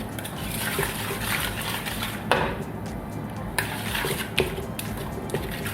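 Steamed purple sweet potato being worked and mixed in a pan, with a steady scraping, rustling texture and occasional sharper clicks of a utensil against the pan, all close up and at a moderate level.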